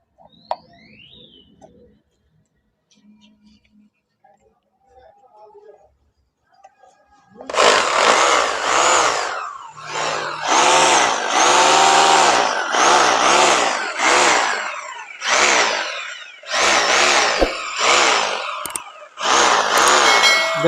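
A 2-26 hammer drill, just repaired, runs on a direct power line with a loud, buzzing whine. It starts abruptly after quiet clicks and handling, then cuts on and off in repeated bursts of several seconds each.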